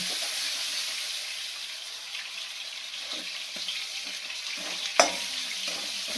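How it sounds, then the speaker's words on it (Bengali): Spice masala and crab frying in a pan for a home-style Bengali crab curry, a quiet continuous sizzle with a sharp clink of a utensil near the end. "মশলাটা এখানে ভাজা হচ্ছে, আর এখানে হচ্ছে ক্যাকড়াটাও ভাজা হচ্ছে"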